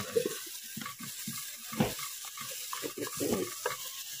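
Ghee and fried onions sizzle in a cooking pan for a chicken curry, with steady frying hiss and repeated scraping strokes of a spoon stirring at close range, no voices.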